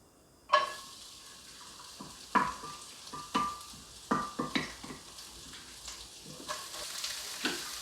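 Carrots and other vegetables for japchae are stir-fried on low heat, with a soft background sizzle broken by several sharp scraping and clattering stirring strokes against the pan.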